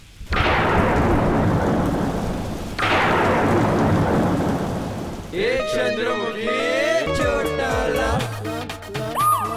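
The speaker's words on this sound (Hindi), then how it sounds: "भरी बरसात भी हो रही है" Heavy rain pours down while two loud thunderclaps roll through, each bursting and slowly fading, before music with singing takes over.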